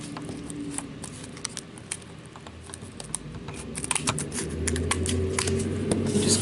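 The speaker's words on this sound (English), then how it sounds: "I'm using my little detail scissors for this part" Small detail scissors snipping through paper for a stick-and-pearl cross ornament, a run of light, close, irregular clicks and crisp snips over faint background hiss.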